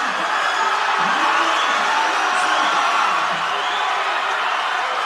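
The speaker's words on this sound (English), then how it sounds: "listen to that crowd" A large crowd cheers and roars at a swimming meet during an 800 freestyle relay, a steady dense wash of voices with occasional whoops, loud and continuous throughout.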